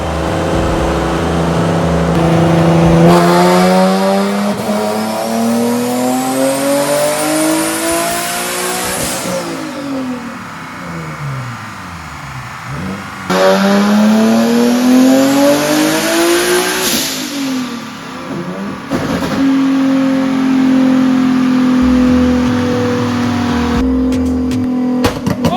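A Nissan 370Z V6 running on race gas revs hard on a dyno, loud and close, its pitch climbing in repeated sweeping pulls that drop off between runs, with a steady high whine over the engine roar.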